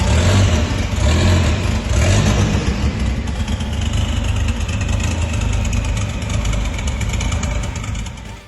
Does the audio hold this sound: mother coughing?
no